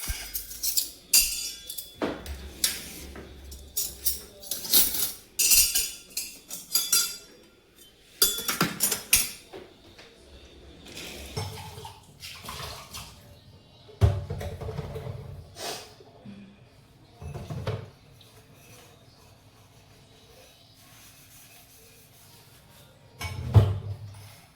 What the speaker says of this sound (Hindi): मैंने जो पहले बर्तन धोए थे उनको मैं रखूँगी अंदर